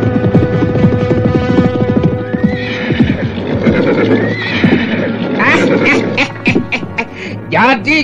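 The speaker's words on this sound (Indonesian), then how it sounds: "Ada 20 orang berkuda datang mengepung kita." Several horses approach with neighs and whinnies over clip-clopping hooves, loud and close, while a voice talks partway through amid a turbulent, busy scene.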